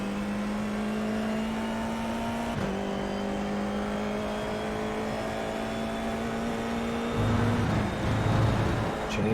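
A Formula F4 race car engine at Rudskogen in the iRacing video game, a steady high droning whine held at constant pitch, with a brief shift dip and a deeper tone near the end.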